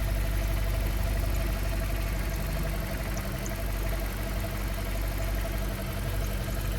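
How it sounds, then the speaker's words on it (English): Steady, continuous engine idle of a BMW X5 E53 running after a power steering leak repair, a constant close mechanical hum and rumble with no speech. "We will now start up the vehicle and do a quick test to see if there is any leak."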